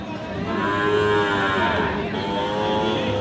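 Cattle moo loudly and close at a livestock market, two long drawn-out calls one after another over a low background murmur of a busy outdoor crowd.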